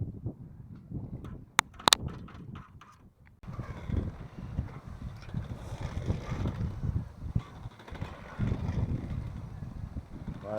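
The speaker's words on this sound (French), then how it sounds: "Voilà, le vent est monté." Wind rushing over a sailboat at sea off Sardinia, gusty low buffeting that rises sharply after a quieter start with a couple of sharp knocks, then continues in uneven surges.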